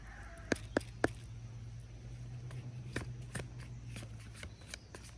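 A few crisp snaps of cards being shuffled by hand outdoors in a chilly forest, followed by softer riffling ticks over a quiet background with a distant bird calling.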